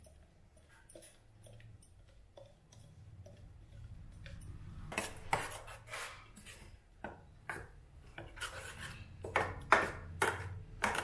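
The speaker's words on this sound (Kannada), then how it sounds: "ಇದಕ್ಕೆ ನಾವು ರುಬ್ಕೊಂಡಿರೋ ತಂಬುಳಿನ ಮಿಕ್ಸ್ ಮಾಡೋಣ" Ground raw mango tambuli is mixed by hand into cooled tempering in a bowl: quiet at first, then a run of soft wet rubbing and squelching strokes, close up and fairly faint, with no voices.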